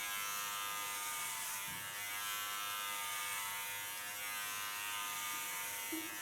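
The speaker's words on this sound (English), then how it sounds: "Take a normal comb in front of the clipper blade." An electric hair clipper buzzes in a continuous, even drone during an ultra short clipper haircut, faint and steady throughout with no pauses.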